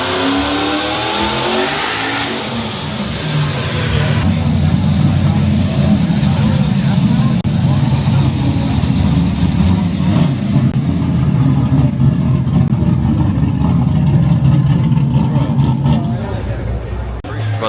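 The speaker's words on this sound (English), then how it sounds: "Sounds like they're doing dyno pulls." Cars rev hard on a dyno at a packed shop during a street car takeover, a loud sustained engine roar building and holding throughout, with crowd chatter underneath.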